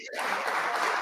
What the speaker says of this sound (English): round of applause for both of y'all